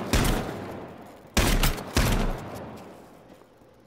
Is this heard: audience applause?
no